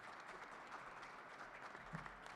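Faint, distant audience applause at a governor's bill signing event for hospitals and health care, an even patter of many hands lasting a couple of seconds.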